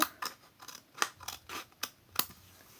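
Scissors snipping the rim off a paper cup, about a dozen crisp close cuts at an uneven, quick pace, with quiet pauses between.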